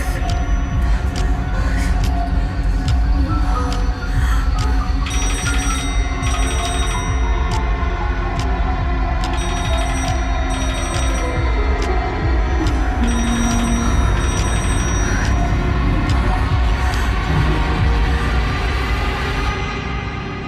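A rotary telephone bell rings continuously and loudly for the whole stretch, layered over a dense, steady drone with shifting tones and no talking.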